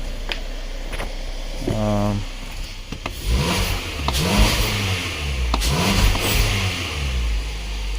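A 2019 Kia Sorento engine runs after a MAP sensor repair. It revs up several times in rising mid-pitched sweeps over a steady running drone, close by.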